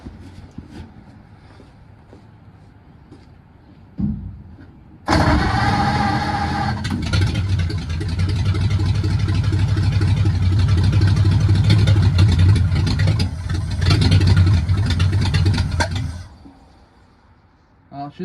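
A 1953 Ford F-100 engine that has been sitting catches after a brief crank and runs loud and rough for about ten seconds, then cuts off.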